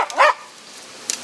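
A young guide dog in training for a blind owner, out on a walk, gives one sharp close bark followed by quiet and a faint short yelp at the end.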